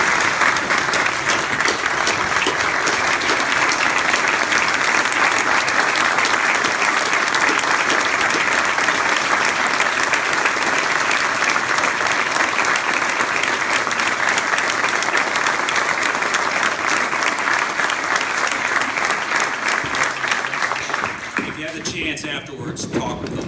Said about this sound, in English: please join me in a round of applause for these two true.